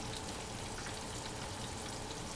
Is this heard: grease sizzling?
yes